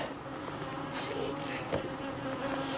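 Steady buzzing of many honeybees around the hive of a Caucasian-queen colony, a dense continuous hum with individual bees passing close now and then.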